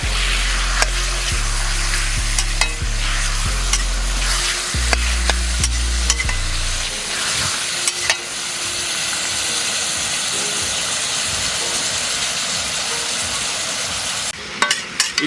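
Mutton and onions fry in a pan outdoors, a constant close sizzle broken by a few sharp scrapes of stirring, with a low droning hum in the first half.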